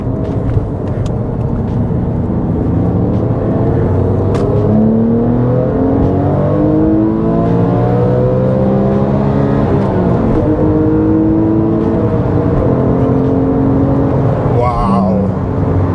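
Porsche 997.1 GT3 flat-six engine revving hard toward 8,400 rpm, a loud continuous rising and falling engine howl heard from inside the car, with climbing and dropping pitches across gear changes and occasional talk underneath.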